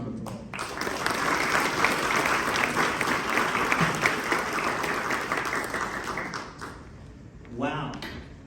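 At an MLK celebration gathering, an audience breaks into full, sustained applause lasting several seconds before tapering off, followed by a brief voice near the end.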